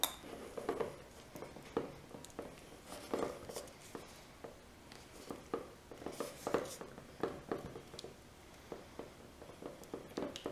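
A spoon scrapes and taps against a bowl as sriracha is stirred into taco sauce for crappie fish tacos, giving soft, irregular clinks and scrapes close by in a quiet room.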